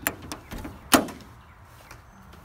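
A 4-foot-wide side door on a Pace 8x18 enclosed trailer gives a few light knocks, then one sharp thud as it shuts, close by, with a brief fade afterward.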